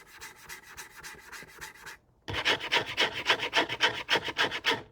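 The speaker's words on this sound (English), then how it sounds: "That scratching noise." Scratching from inside a ceiling, behind the tiles: a run of quick rasping strokes, a brief silent pause, then louder, busier scratching that keeps going in a steady rhythm, with no voices.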